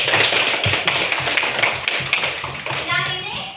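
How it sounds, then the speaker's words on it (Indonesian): A classroom of young schoolchildren claps together in a dense, sustained patter of hand claps, with children's voices chattering over it throughout. "Ya, tepuk tangan lagi."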